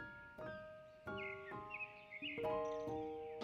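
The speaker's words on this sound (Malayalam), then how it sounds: "കിളികളുടെ കൂടണയാൻ നേരത്തുള്ള ആ ഒരു ശബ്ദവും" Birds calling at evening as they return to roost, with a series of harsh, crow-like caws repeating at intervals, fairly close and clear over a quiet background.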